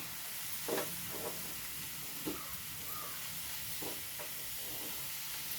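Masala with garam masala stirred in a frying pan, with a soft steady sizzle and a few faint, sparse scrapes of the spoon.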